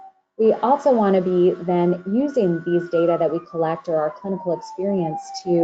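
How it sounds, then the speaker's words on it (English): An emergency siren wails near a medical center at the University of Washington, a rising and falling tone running steadily under someone talking close to the microphone throughout. "sorry about the sirens in the background, I clearly am working in a medical center"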